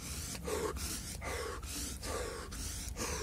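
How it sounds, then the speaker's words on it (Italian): Slow, repeated breaths drawn in through the nose during a calming qigong breathing exercise, several close, steady inhalations in a regular rhythm with no talking. "Inspirare, però cercare di attivare la respirazione dal naso, inspirazione dal naso"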